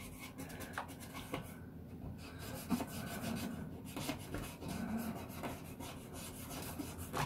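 Cloth rubbing and wiping over freshly sanded areas of a Commodore VIC-20 PET keyboard case to clear away dust, a steady close soft rasping with short repeated strokes throughout.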